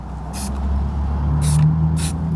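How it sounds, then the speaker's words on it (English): A spray paint can hisses out three short bursts over a steady low hum of background noise while spray art is made, each burst loud and close. "So I'm just kind of spraying off of this."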